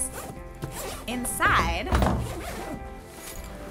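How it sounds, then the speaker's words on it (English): Number 10 self-repairing lockable zippers on Eagle Creek Expanse AWD four-wheel luggage, a quick close zipping pull with handling thumps around it, heard under someone talking. "you've got number 10 self-repairing lockable zippers"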